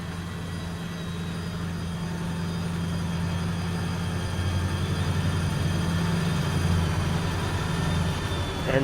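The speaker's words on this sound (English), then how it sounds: "So the train is now decelerating." A train in the RO-Scale B&LC Horsethief Route video game decelerates, giving a steady, fairly loud low engine rumble and hum that swells slightly toward the end, with no voices.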